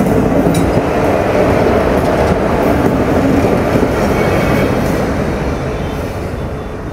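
Ananthapuri Express train rolling past a railway crossing, a steady loud rumble of wheels and carriages holding for the whole stretch and easing off slightly toward the end.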